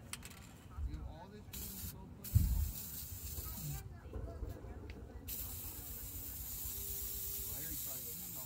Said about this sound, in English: I'm just going to spray the outside.